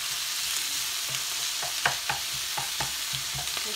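Ackee and salt fish with tomatoes sizzle steadily in a hot pan as a spoon stirs them, giving a series of soft scraping knocks over the constant close frying hiss.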